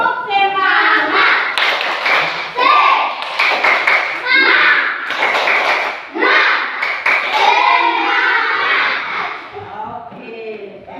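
A classroom of kids repeats the 'tepuk semangat' clapping chant, sharp patterned claps woven through their loud unison voices, near and lively from start to finish.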